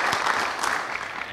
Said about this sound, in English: So please give yourself just a round of applause.